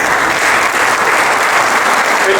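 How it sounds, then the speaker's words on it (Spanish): Dense, steady audience applause at a storytelling evening in a museum, loud and close, continuous clapping without pauses for its full length. "Vamos a darle un fuerte aplauso."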